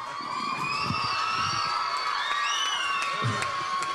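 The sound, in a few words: audience applause and cheering at live concert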